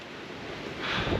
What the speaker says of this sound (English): now we're just trying to find a spot out of the wind because it's real bad up here.